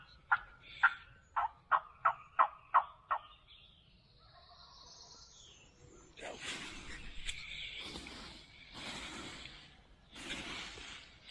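A wild turkey gobbler in the Kentucky mountains, heard across a paved road, sounds a rapid series of about seven sharp gobbling bursts at moderate distance, followed by softer fluttering bird calls and rustling in open woodland.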